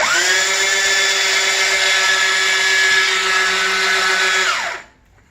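A toy or novelty chain gun fires a continuous, loud, steady mechanical rattle with a whirring tone for about four and a half seconds, then stops abruptly into near silence.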